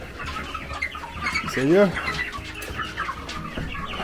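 Chickens in a coop on a mountain farm in Jamaica, with one clear rising cluck or crow standing out over a background of softer fowl calls and rustling. A person speaks briefly nearby.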